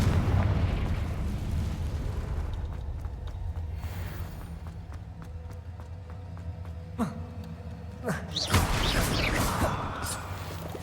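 A Confringo fire spell explodes in a Harry Potter video game: two sharp blasts land in the second half, with the later one the larger and longer, over a steady rumbling game background.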